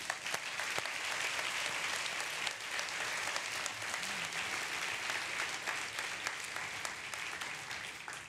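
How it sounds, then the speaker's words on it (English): A large conference audience claps continuously, a dense steady roar of applause that holds throughout before easing slightly at the end. "let's give them a round of applause"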